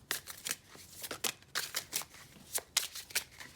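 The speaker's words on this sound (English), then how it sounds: "I know sometimes it takes a while with shuffling" Tarot cards being shuffled by hand in quick, irregular bursts of riffling and sliding, close and fairly soft, with no talking.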